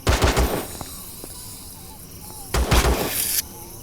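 In the sci-fi survival game Empyrion Galactic Survival, two bursts of rapid gunfire rattle out close and loud, separated by a quieter gap with a few isolated clicks and faint game sounds.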